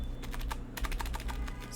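Keys clatter on a computer keyboard in a quick, irregular run of close, light clicks over a steady background hum, with no talking.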